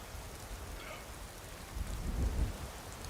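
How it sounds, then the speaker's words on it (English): Rain falls steadily in the video game Skyrim, a soft, even patter of drops with a low rumble swelling toward the end, like distant thunder, and no voices. "Man, it hasn't stopped raining in this game."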